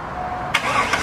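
A 2001 C5 Corvette, a crashed car being rebuilt as an off-road kart, cranks briefly and then fires, its engine catching with a sudden loud burst and settling into a rough, throaty run.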